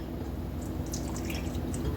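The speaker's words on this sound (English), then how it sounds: "let me see if I can pour just a tad." Liquid is poured a little at a time while making a homemade chocolate cake, a soft steady trickle and drip close by, continuous and fairly quiet with no talk.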